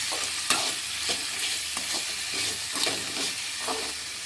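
Ivy gourd sizzles and fries in a pan with rock salt as it is stirred and sautéed, with a steady hiss broken by repeated scraping stirs at a close, even level.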